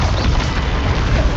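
Confringo blast spell in the game Hogwarts Legacy, a loud, dense, roaring explosive burst that fills the moment with no gap or talk.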